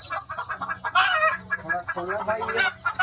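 Several hens on a poultry farm cluck and murmur continuously nearby while sitting on eggs, their throaty calls overlapping in an uneven rhythm with low background noise.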